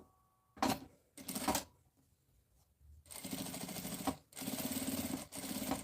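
Sewing machine topstitching a zipper seam on a small double pouch: two brief whirring bursts, a pause, then two longer runs of rapid mechanical stitching, close and clear with no talk.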